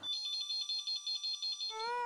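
A phone rings in a rapid electronic warble, a run of short even pulses repeating for about a second and a half before a voice cuts in at the end.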